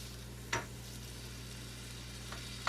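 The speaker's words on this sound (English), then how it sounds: "Ooh, that's a sizzle. See those mushrooms?" Mushrooms and onions sizzle in a pan for an omelet, a steady hiss with two brief sharper crackles or stirring scrapes, heard close with no talk.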